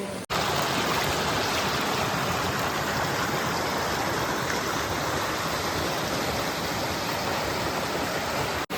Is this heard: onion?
no